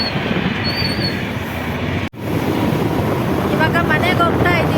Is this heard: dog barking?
no